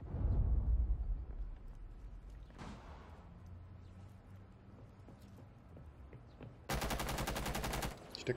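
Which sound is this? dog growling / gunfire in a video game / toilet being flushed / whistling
gunfire in a video game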